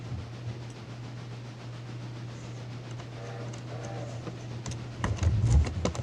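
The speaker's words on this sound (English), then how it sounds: "So once we get this train in the yard, I'll stop it." A freight train in the railroad simulator Railroader rolls slowly into a yard, a steady low mechanical drone running throughout with faint clanks, then a burst of louder knocking and rumble near the end.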